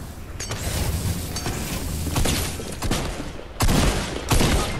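A shotgun fires during a Fortnite fight, with several sharp, loud blasts over a continuous bed of game gunfire and effects, the last shots louder than the earlier ones.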